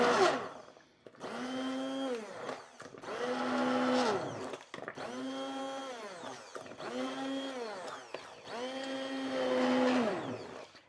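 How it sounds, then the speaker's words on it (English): An immersion blender purees sweet potato, carrot and red lentil soup in five long whirring bursts, each motor run rising and settling with short pauses between, close and alone. "we're going to emulse these with the immersion blender"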